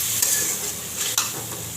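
Boiled banana being stirred into sautéed potatoes in a hot pan, a steady close sizzle with a few brief scraping stirs over its 2 seconds.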